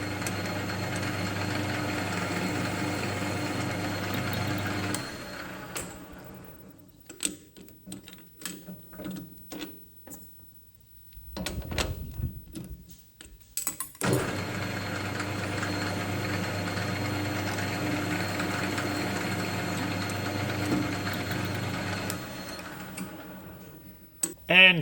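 A machine tool countersinks a metal workpiece, giving a steady whirring, grinding mechanical drone. The drone breaks off in the middle into quieter clicks and handling noises, then resumes, with speech heard at times.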